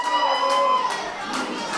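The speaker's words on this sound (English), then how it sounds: "You can hear the anticipation, the screams" Fans at a Lucha Underground wrestling event in the German capital cheer and scream ahead of a bout, a brief, loud wash of crowd noise with high shouts cutting through the steady din.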